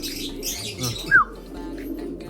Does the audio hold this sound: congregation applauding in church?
no